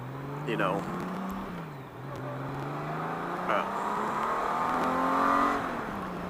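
A motorcycle that has sat unused is revved to clear carbon, its engine note rising and falling in repeated sweeping pulls, loud and close, with wind or road noise around it.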